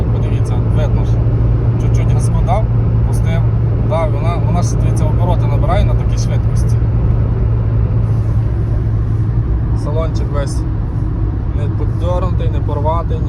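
A Dacia Sandero with a 1.4 petrol 8-valve engine and 105,000 km on it hums steadily at raised revs, a constant loud drone heard from inside the car while someone talks over it.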